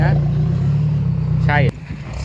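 A six-wheel dump truck's engine rumbles loud and close with a steady low drone, broken near the end by a short sharp burst before the noise drops. Someone talks over it.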